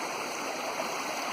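Muddy stream water runs past an old farm road, a continuous soft rushing and gurgling wash at moderate distance, steady and unbroken throughout.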